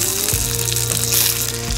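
Pre-cooked sausages fry in butter in a pan, giving a steady, close, continuous sizzle with faint crackle throughout and no talking.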